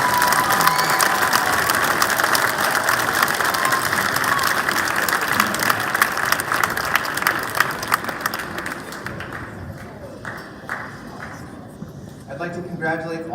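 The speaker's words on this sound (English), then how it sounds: "Big round of applause for Donovan and Tegan." Audience applause at a Lincoln school year-end awards ceremony, a dense, steady clatter of many hands filling the room for about ten seconds before thinning out, with voices mixed in.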